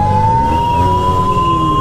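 An ambulance siren wails continuously and close by while the vehicle sits stuck in dense traffic, its steady tone riding over engine and road rumble.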